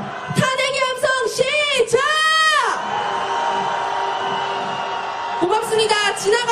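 A crowd of candlelight protesters on a street march calls for impeachment with a long roar of cheering and shouting. Voices swell together and hold, drop back, then surge again near the end. A voice calls out briefly at the start.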